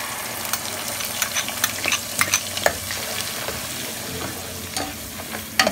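Ground onions frying in oil for a fish kofta curry, a steady close sizzle with repeated sharp scraping stirs and clicks throughout.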